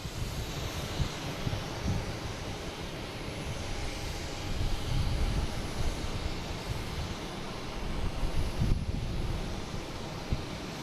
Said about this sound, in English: we have JetBlue coming in from Reagan, flight 1554, landing on 22 left